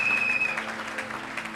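A church congregation bursts into applause, a soft wash of clapping heard from within the room, brief and fairly faint, with a high sustained tone lingering at the start.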